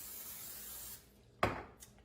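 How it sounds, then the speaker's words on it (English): A baking pan is coated with cooking spray in a short, close hissing burst of about half a second, followed by a fainter brief puff, after a soft rustling start in a kitchen. "We are going to spray our pan with Pam or whatever spray you like to use at home"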